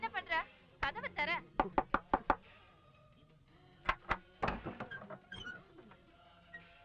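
Knocking on a door in a Tamil film scene: quick bursts of sharp raps separated by short pauses, loud and close, with a voice heard briefly at the start.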